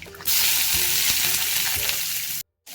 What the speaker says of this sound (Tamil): கடுகு போட்டுக்கலாம், கடலைப்பருப்பு, பெருஞ்சீரகம், வெங்காயம், பச்சை மிளகாய் போட்டுக்கலாம்.